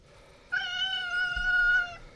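A cat in the Darkwood video game lets out one drawn-out, clear meow lasting about a second and a half, close and loud over a quiet background.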